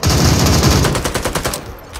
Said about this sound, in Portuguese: o cara sacou da minigun ali